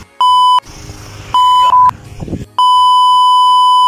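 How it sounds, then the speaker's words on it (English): Three loud, steady electronic bleeps, each a pure sustained tone, separated by muffled chatter and shuffling; the last bleep runs on for over a second. "do you know that little beep?"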